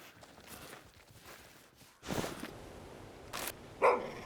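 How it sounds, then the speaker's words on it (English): A dog barks in The Hunter: Call of the Wild, two or three short, muffled barks at a moderate distance over quiet ambient game sound, with soft footstep-like rustles. "Why are you barking? Why are you making that noise?"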